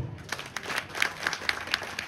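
A small audience claps at a poetry recital during the Harishankar Mahotsav, a light, scattered applause with a few sharper individual claps standing out.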